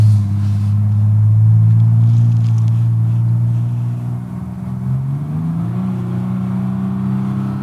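Ford Bronco Raptor engine droning loudly from the cabin as it accelerates, easing off and then climbing again through a paddle-shifted gear change.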